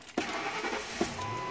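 A 2003 Ford F150 truck with an idle-revving fault cranks and catches near by, then settles into a quiet, uneven idle with brief knocks and bumps.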